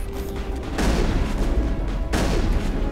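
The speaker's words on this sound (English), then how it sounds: "give me my shotgun" Shotgun blasts in Mass Effect, two loud, heavy booms about a second and a half apart over dense game noise, each with a rumbling tail.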